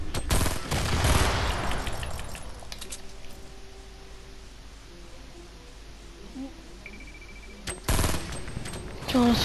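Video game gunfire in a battle royale match, a loud burst at the start, a quieter stretch of faint tones and rattles, then more shots near the end.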